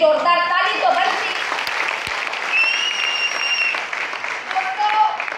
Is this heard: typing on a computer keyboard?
no